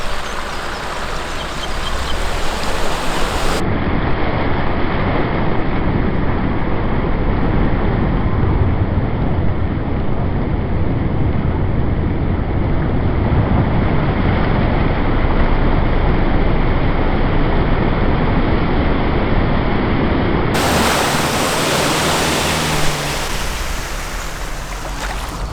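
4WD vehicle driving through deep water puddles on a sandy island track, a loud continuous rushing, churning wash of water and engine noise that swells and holds throughout.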